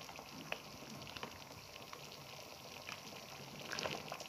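Homemade tomato paste simmers in a pot as its water cooks off, making a soft, steady bubbling hiss with scattered small pops and sputters, faint and close.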